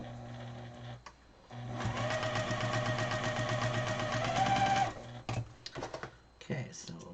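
A home sewing machine stitches quilt block coasters in a steady mechanical whir for several seconds, stopping and starting with brief clicks and handling noises around it, while a person talks at times.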